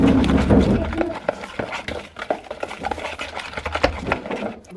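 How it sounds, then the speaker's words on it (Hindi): A spoon scrapes and clinks around a pan as soy sauce, vinegar and chili sauces are mixed for creamy chicken karahi. The quick, irregular taps run steadily beneath close, prominent talking. "अब इसको अच्छे से मिक्स कर लेंगे।"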